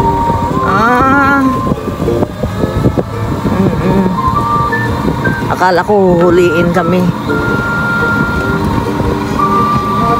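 Road traffic with many vehicles rumbles continuously along a road on the way to a market in the rainy season, mixed with wind buffeting the microphone, while people talk loudly close by.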